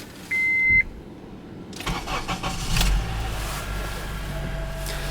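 A 2006 Honda CR-V SE with the K24 engine cold-starting on a chilly day: a short electronic beep, then the starter cranks briefly and the engine catches into a steady, smooth idle, heard up close.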